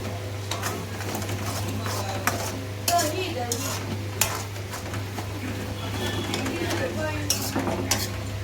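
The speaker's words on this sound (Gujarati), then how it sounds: "આ જો હળદરના અંદરથી ઘી છૂટ્યું વધુ શેકાવાની બાકી છે।" Green turmeric sabzi frying in ghee in a pan, with steady stirring scrapes and clinks of a utensil over a low sizzle, close and continuous under a constant hum; a voice talks intermittently.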